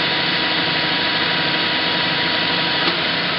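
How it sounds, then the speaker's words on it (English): A machine cuts a spacer part to length, taking a small amount of material off in one continuous steady cut with a loud, even grinding whine and no talking. "So now we'll make another cut."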